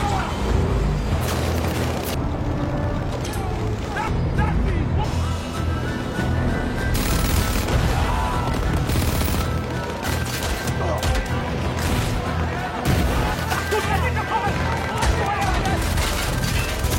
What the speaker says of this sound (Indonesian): Pertempuran senjata dengan artileri berat dimulai. Semua amunisi dan senjata berat ditembakkan.